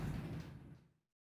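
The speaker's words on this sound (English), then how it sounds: "The elevator stopped and the door slid open." An elevator door slides open in the video game Zero Escape: Nine Hours, Nine Persons, Nine Doors, a low rumbling slide lasting under a second that fades out into silence.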